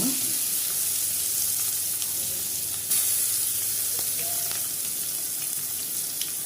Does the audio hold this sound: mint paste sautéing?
yes